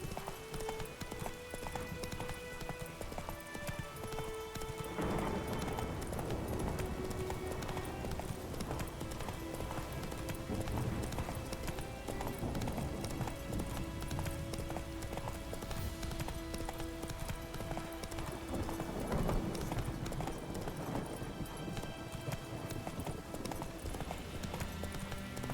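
Horse hooves galloping in The Witcher 3 video game, a steady, loud clip-clop rhythm running throughout over game music and ambience, with a brief whinny-like tone.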